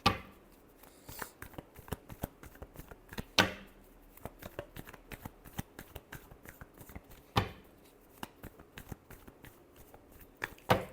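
Tarot cards are shuffled by hand in quiet surroundings, bursts of crisp riffling every few seconds between lighter, scattered card taps, close and with no voice.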